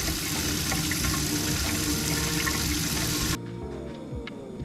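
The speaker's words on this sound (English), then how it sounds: "Run finger under cool water until pain subsides." Cool tap water running steadily from a faucet over a burned finger, giving a loud, close, continuous rush that abruptly drops to a quieter flow near the end.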